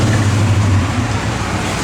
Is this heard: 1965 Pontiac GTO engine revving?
yes